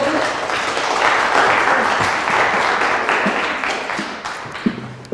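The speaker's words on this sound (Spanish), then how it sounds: "les pido de favor un aplauso" An audience at a talk gives a welcoming round of applause, many hands clapping in a thick, steady wash that swells and then gradually fades, ending with a few scattered claps.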